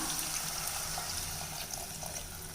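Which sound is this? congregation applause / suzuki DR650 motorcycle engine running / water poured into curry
water poured into curry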